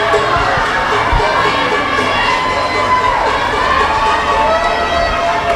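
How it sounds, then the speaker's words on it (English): A poolside crowd cheers and shouts steadily through a swimming race at a school championship meet, a dense, loud, echoing roar with children's voices, heard without pause. "Lots of cheering from the crowd"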